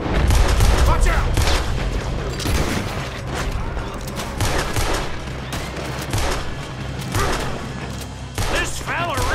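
A heavy shootout in Red Dead Redemption 2 fills the scene, with dense bursts of rapid gunfire and booming shots crowding the whole stretch, loud and close, and shouted voices mixed into the chaos.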